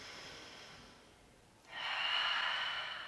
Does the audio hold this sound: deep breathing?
yes